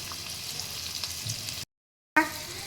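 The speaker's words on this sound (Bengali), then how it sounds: "জিরেটা দিয়ে দিলাম আমি পেঁয়াজ ভাজবো" Chopped onion frying with cumin seeds and a dried red chili makes a close, steady sizzle and crackle, broken by a brief cut to silence before the frying sound returns.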